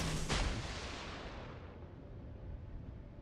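Torpedoes launched from a warship in World of Warships: a sharp, booming launch blast near the start, then a long rumbling wash that fades gradually, with no talk over it.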